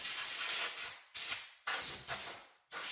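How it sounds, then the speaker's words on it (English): Compressed air blows in four sharp, loud hissing bursts with short gaps, used to clear a motorcycle rim before fitting enduro rim tape; no voices. "is using compressed air"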